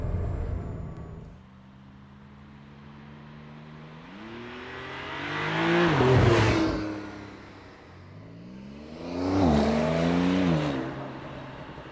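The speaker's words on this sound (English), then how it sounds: "Double clutching here now in the next roundabout." Porsche 911 Targa 4S (992) taking a roundabout with double-clutch downshifts, engine note dropping then swelling into two distinct rev surges with rising pitch, heard from inside, moderately loud with no talking.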